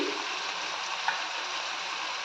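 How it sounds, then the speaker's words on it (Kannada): Turmeric, cumin, coriander and garam masala powders hit hot tempering oil for a spicy prawn gravy, giving a steady, close, dense sizzle with one brief clink partway through and no voices. "ಈ ಮಸಾಲೆಯೆಲ್ಲ ಒಗ್ಗರಣೆಗೆ ಮಿಕ್ಸ್ ಮಾಡ್ಕೋಬೇಕು"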